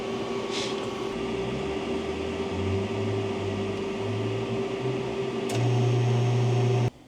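A refrigerant recovery machine pulls Freon from a 1993 Acura NSX's lines, running with a steady mechanical drone and a pulsing low hum that swells louder near the end, then cuts off abruptly.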